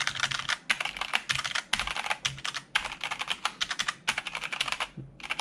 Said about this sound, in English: The PBT keycaps just sound much heavier and clunkier and just overall have a better sound and a better feel.